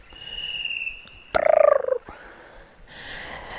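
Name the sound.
cuckoo bird calling in a gorge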